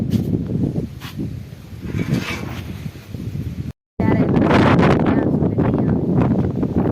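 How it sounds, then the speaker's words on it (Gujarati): Heavy wind buffets the microphone in loud, rumbling gusts throughout, briefly cutting out partway, with occasional muffled voices underneath. "આજે ભાઈ કાલથી પણ વધારે છે, ખતરનાક પવન."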